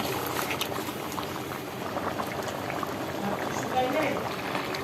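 An ash gourd and prawn curry bubbling uncovered in a pot, a continuous soft boiling burble with liquid gurgles throughout, moderately close and fairly even in level.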